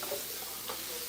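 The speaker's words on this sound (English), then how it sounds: "let the onion just saute just for a little bit" Onions sauté in olive oil with a steady, faint sizzle and hiss, broken by a few soft ticks and stirring sounds.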